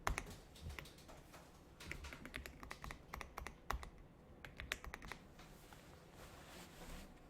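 Keys clack on a computer keyboard during typing practice, with irregular bursts of close, crisp taps and a few heavier strokes like the enter key being hit, fairly quiet and with no voice.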